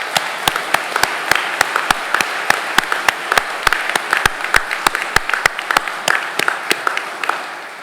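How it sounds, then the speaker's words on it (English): A crowd at a Navy Nuclear Power Training Unit Charleston graduation ceremony applauds steadily, many hands clapping in a dense, even rhythm that holds for several seconds before tapering slightly at the end. "please join me in a round of applause for our families, friends, and shipmates"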